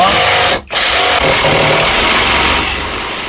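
An ELTOS cordless brushless impact driver, running in second gear, drives a screw with a loud, continuous buzzing hammer. It breaks off once briefly near the start, then keeps running steadily to the end.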